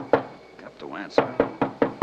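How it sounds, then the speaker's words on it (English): Heavy fist pounding on a door in an old-time radio detective drama: one thump, then a quick run of four loud, evenly spaced knocks, and a voice speaking briefly between them. "You can pound on that door till you're blue in the face"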